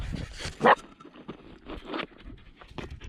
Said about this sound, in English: This is too much dog.